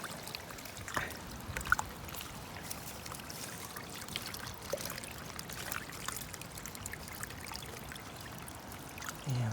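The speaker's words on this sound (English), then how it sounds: "You can probably hear the change in the tone of the water straight away." Water flows steadily through a drain just cleared of built-up debris, a continuous soft trickling and pouring stream at close range with faint splashy texture, no talking.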